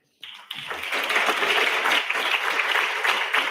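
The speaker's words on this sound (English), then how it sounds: "a big round of applause for everyone" Steady applause from an audience at a virtual institute joint session, starting abruptly and continuing as dense, even clapping throughout.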